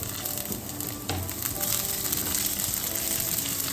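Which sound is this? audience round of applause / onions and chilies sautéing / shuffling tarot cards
onions and chilies sautéing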